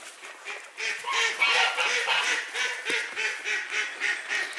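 A female duck grumbles and quacks in a close, steady series of nasal, rhythmic calls, about a dozen in a row.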